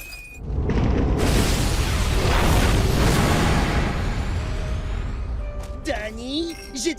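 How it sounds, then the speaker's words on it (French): A cartoon explosion erupts as a loud, sustained rumbling blast that slowly fades over several seconds, followed by scattered debris clatter and zany sound effects at the end. "Préparez-vous à ce qu'on appelle une explosion."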